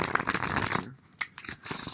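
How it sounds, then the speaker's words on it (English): Tarot cards being shuffled by hand, a dense run of crisp riffling and flicking for most of the moment, a short lull, then more close, steady card shuffling. "just relax and enjoy the shuffling"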